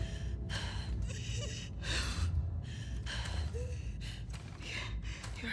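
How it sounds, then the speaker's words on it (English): Labored, heavy breathing of a wounded character in The Last of Us Part II, a series of close, ragged gasps and exhales in steady rhythm over low background rumble. "Your breathing's worse."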